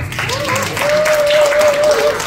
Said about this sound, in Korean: 우리 정강목 교수님께도 뜨거운 박수